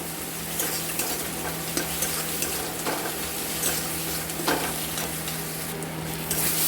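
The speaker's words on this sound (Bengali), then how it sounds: "জল দিয়ে এটাকে কষব যতক্ষণ না মশলা থেকে তেল ছাড়তে ততক্ষণ আমরা এটাকে কষবো" Spice masala sautéing with a splash of water in a pan, a steady close sizzle with scattered stirring scrapes and clinks running throughout, no voices.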